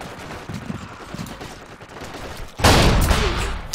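A Vickers machine gun fires in Forgotten Hope 2, a World War II shooter, on a bottlenecked North African map around Tunis: a loud, dense burst of shots starts partway through and rolls on to the end, with fainter battle noise before it.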